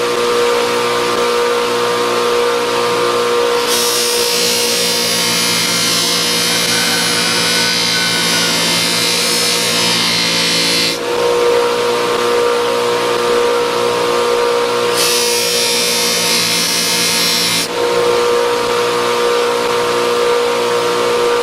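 A cotton buffing wheel loaded with white compound polishes a knife blade, a steady loud motor whine with a broad hissing rasp that comes and goes as the steel is pressed against the spinning wheel in two long passes.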